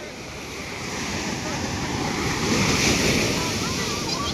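Rough sea surf pounding Digha beach in steady, roaring waves with wind buffeting the microphone, loud and continuous throughout.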